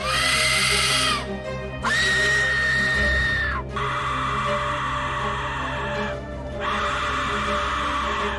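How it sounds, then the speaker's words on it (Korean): An Aztec death whistle gives three long, piercing shrieks like a human scream, each sustained for a couple of seconds with brief pauses between, loud and harsh. "이름부터 불길한 이 호루라기는 사람의 비명소리와 똑같은 소리를 내죠"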